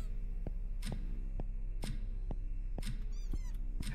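Kitten meows from a video game, a short cry repeating roughly every half second over a steady low game hum, with a brief higher chirping burst near the end.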